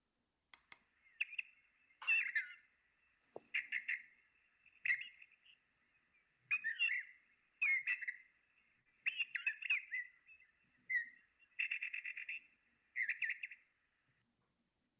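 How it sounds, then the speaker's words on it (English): Shore birds call in a field recording, with a series of short, bright chirping bursts repeating at irregular intervals, fairly faint and distant against a quiet background. "the recording on this is sound birds that you'd hear at the shore"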